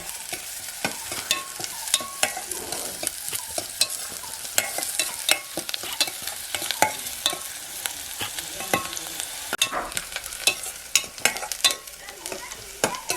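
Onion frying in a pan, turned over with repeated scraping and clinking spoon strokes over a continuous crackling sizzle, close and steady throughout, without speech.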